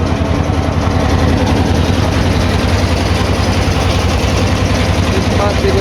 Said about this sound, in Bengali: ট্রলার ইতিমধ্যে খুব কাছাকাছি এসে গেছে।